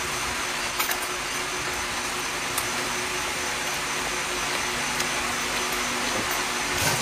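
An electric fan runs indoors during a typhoon, giving a steady, even whooshing hum that fills the background without a break and with no one talking over it.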